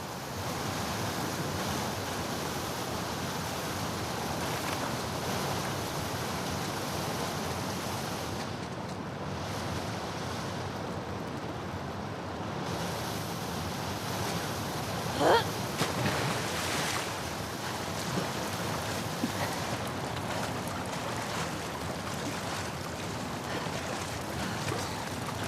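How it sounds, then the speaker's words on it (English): A fast-flowing torrent of water in The Last of Us Part II, a steady, loud rushing roar that runs unbroken throughout, with a brief sharper splash near the middle. "the player was faced with a fast-flowing torrent of water they couldn't cross"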